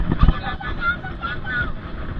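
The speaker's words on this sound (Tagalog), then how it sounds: "Ini hangin naman eh." Wind gusting over open sea near shore, with a loud buffeting rush against the microphone, a brief thump early on, and faint engine-like tones underneath.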